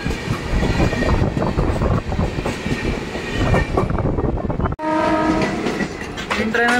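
A train rumbles and clatters at a station on the Kazipet–Secunderabad route, loud and continuous, then a sustained horn blares near the end.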